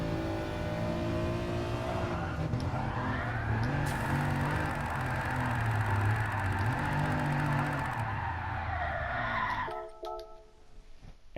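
A race car drifts on a hilly track in Gran Turismo Sport. A loud, sustained engine roar rises and falls with revving, and tyre squeal runs over it until the sound drops away near the end.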